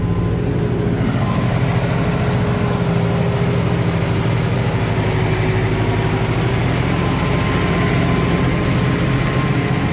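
A Hattat T4110 tractor ploughing a muddy field, its diesel engine droning loud and steady at close range for the whole stretch, a heavy low rumble with constant mechanical hum and no pauses.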